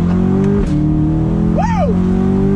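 A Chevrolet C8 Corvette Z51 convertible accelerating on throttle, its engine note steady and loud from inside the car, rising in pitch with a quick shift partway through.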